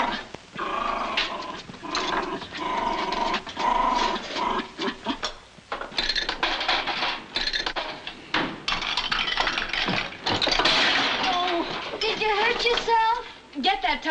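A dog growls intermittently in a busy household scene, its low rumbles mixed in among overlapping voices of people talking nearby, with clattering and movement throughout.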